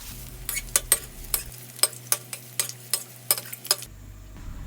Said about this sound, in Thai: เราก็จะทอดจนเนื้อหมูเป็นสีเหลืองสวยนะคะ ดูจากขอบๆแล้วเราก็จะพลิกด้านอีกครั้งหนึ่งค่ะ